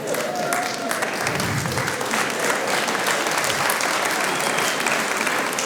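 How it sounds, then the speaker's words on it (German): An audience claps at a live Schwarzer Wuck show, with dense, steady applause filling the whole stretch at an even, fairly loud level and no pauses. "also wenn ihr jetzt schon klatscht"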